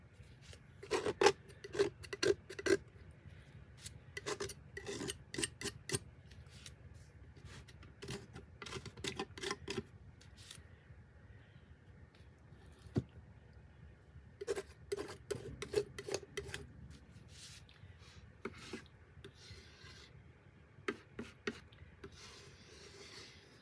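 Blue acrylic paint scraped up with a tool, heard as repeated short rasping scrapes in bursts separated by pauses, close and fairly quiet, with no talking.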